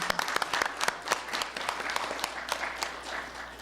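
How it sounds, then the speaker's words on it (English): Audience applause for a woman lecturer at a live spiritual discourse in a temple, dense close clapping with distinct sharp individual claps standing out, steady throughout with a low hum underneath. "Can we please give her a round of applause?"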